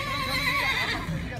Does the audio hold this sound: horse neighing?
yes